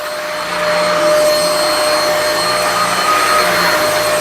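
Vacfore cordless stick vacuum cleaner running steadily on carpet, a loud close motor whine with constant airflow hiss, slightly rising in level after the first second and holding without talk.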